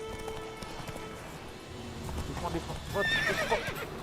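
Roach the horse in Witcher 3 neighs and gallops, hooves clip-clopping steadily under game music while a whinny rises near the end, with a voice talking over it.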